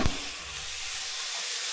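Potatoes and cauliflower fry in a pan, giving a steady, moderate hiss and sizzle after a brief knock at the start, with no talking.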